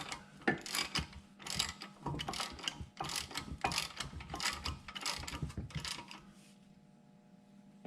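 Ratchet clicking in quick bursts while a bolt on a 2018 Malibu front brake rotor is tightened by hand, about eight close, loud runs of clicks before it fades to quiet.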